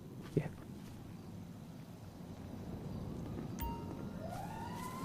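A police siren chasing the player in GTA V, a faint wailing siren that rises and falls under a steady game background, with brief knocks and engine noise.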